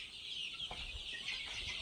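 A flock of young native-breed chicks on a farm peep and cluck in a continuous high-pitched chorus, close and steady, with soft scuffling underneath and no talking.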